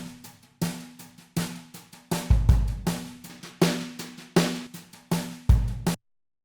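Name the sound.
drums through extreme matching EQ curve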